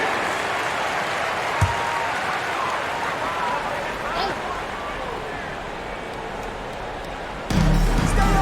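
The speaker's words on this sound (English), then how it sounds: "Give a big round of applause." A large crowd applauds steadily in a continuous wash of clapping at a basketball game in the video game NBA 2K25, with a faint voice underneath and a brief thump partway through.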